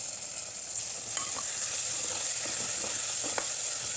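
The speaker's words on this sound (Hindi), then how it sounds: "इन सब मसालों को हम अच्छे से भून लेंगे।" Red chilli powder, yogurt and coriander-mint chutney fry in a pan for egg biryani while being stirred. An even, close sizzling hiss carries on throughout, with light scraping clicks from the spoon.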